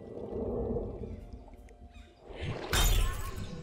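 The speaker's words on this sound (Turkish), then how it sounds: "Camı kırdı." Glass shatters loudly and suddenly in a forest mystery video game, a bright crash with a scattering tail that rises sharply over a quieter bed of ambient game sound.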